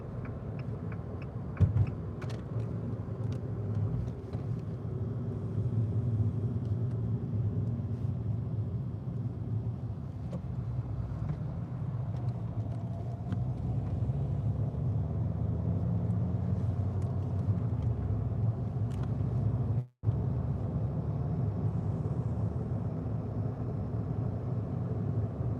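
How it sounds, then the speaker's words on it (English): Steady low engine rumble and road noise from a car driving to work through moderate daytime traffic, continuous and fairly close, with a brief dropout near the end and no talking. "There's quite a bit of traffic today"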